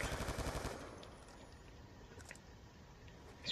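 Rapid bursts of gunfire in a video game shooter match, loudest at the start as a dense rattling volley, then fading into a quieter sustained rumble with a few scattered sharp shots later.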